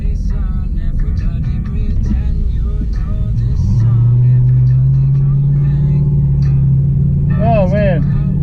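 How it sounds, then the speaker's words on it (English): A Chrysler 300 SRT8 with bolt-on modifications launches after a burnout, giving a loud, close engine rumble that rises into a sustained rev, while someone talks excitedly over it throughout. "I got too excited on the burnout."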